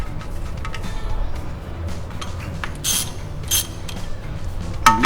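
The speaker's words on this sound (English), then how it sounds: "And then we torque it with the ratchet" A ratchet clicks and creaks as it torques a 14mm oil drain bolt during a general service, with close mechanical ratcheting in short bursts and no talking.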